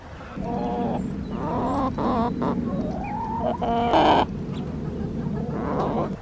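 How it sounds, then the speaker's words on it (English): Several chickens cluck and croon nearby in drawn-out, sing-song phrases, with a brief louder squawk midway over a low background rumble. "hearing how happy these chickens are. The way they sing"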